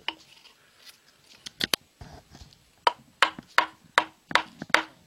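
Sharp irregular knocks and scraping cuts of a wood chisel working into wood on a carving bench, close by, coming in uneven bursts with short pauses between.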